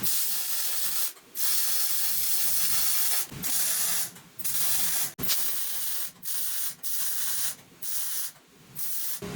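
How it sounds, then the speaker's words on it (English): Stitch welding a bracket onto a Jeep Cherokee XJ rear axle gives loud, crackling, hissing bursts of arc, about ten short welds of a second or so each, split by brief quiet gaps. "the instructions say I can go ahead and stitch weld this onto the axle."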